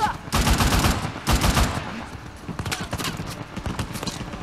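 Enemy gunfire from Uncharted: The Lost Legacy comes as bursts of rapid shots and scattered single cracks, loud and close, with game sounds mixed in.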